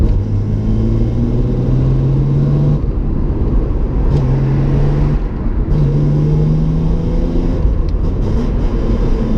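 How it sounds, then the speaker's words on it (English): A BMW E36 car held at full throttle in third gear, its engine giving a loud, close, rumbling drone with wavering tone that strains and dips rather than climbing freely. "I'm mashed in third, look, fully to the floor, and the car is like slowing down."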